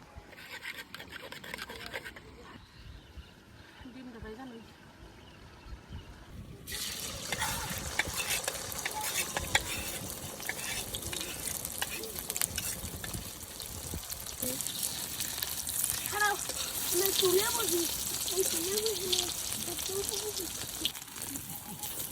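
Duck eggs fry in a pan in a village kitchen, first quietly, then with a steady, bright sizzling hiss that continues for about fifteen seconds while someone talks nearby.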